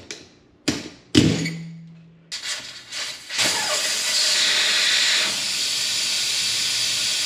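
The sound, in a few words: air hissing out of tire as valve core is removed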